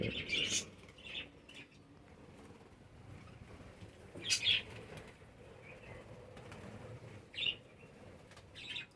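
A colony of pet budgies chirping in short bright bursts, with wing flaps and fluttering rising a few times over a quiet, faint background.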